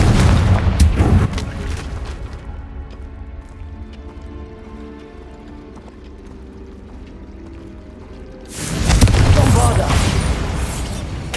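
Confringo fire spell explosions in the Hogwarts Legacy video game: a loud, broad blast at the start, then a quieter musical ambience, then another heavy burst near the end.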